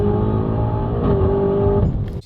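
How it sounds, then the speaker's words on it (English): A BMW M8 Competition with aftermarket downpipes makes a full-throttle launch from first gear, its engine roaring loudly and steadily as revs climb, then cutting off abruptly at the end. "Let's do a full throttle launch here from first"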